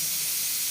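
Steady, continuous hiss of steam rising from chicken cooking on a stove, close and even throughout the short moment with no other sounds.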